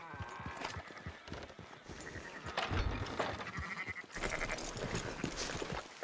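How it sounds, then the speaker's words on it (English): Sheep bleat several times amid hoof clops and movement in the video game Red Dead Redemption 2, fairly close, with no talking. "Fine sheep."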